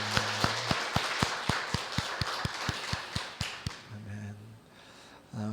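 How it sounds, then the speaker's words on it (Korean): Congregation in a church worship service applauding together, with sharp hand claps landing in a steady rhythm, then fading out before a short sustained tone. "우리 하나님께 영광의 박수를 올려드리겠습니다"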